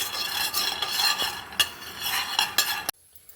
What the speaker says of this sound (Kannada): ಫಸ್ಟ್ಗೆ ಕಡಲೆ ಬೀಜ ತೊಗೊಂಡಿದ್ದೀನಿ. ಚೆನ್ನಾಗಿ ಫ್ರೈ ಮಾಡಬೇಕು.